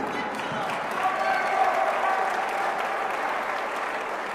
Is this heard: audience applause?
yes